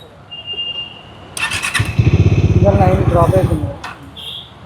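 A Bajaj Dominar 400 motorcycle fitted with an Apollo Alpha H1 tyre cranks and starts up, a whirring starter then a throbbing idle that settles, with someone speaking Telugu nearby.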